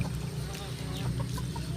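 A chicken clucking near duck nests, short soft clucks scattered over a low background hum, faint and close.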